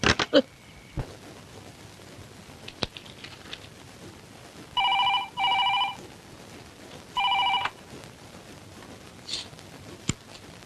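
A telephone rings in a quiet room at night, three distinct double bursts of electronic ringing spaced a couple of seconds apart, moderately loud, with a few faint knocks and clicks between them and no talking.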